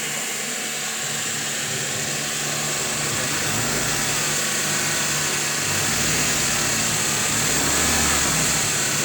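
A car engine holding steady at 2000 RPM with the air conditioning running, a loud continuous drone with a high whine from the AC system, recorded close up.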